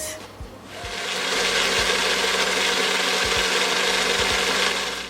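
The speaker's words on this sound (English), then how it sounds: "I'm going to blend it." A blender whirs to life blending aloe vera with a little water, running loud and steady, a continuous grinding roar.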